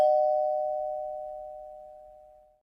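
A single electronic doorbell chime rings clearly and decays smoothly over about two and a half seconds, alone with no talking.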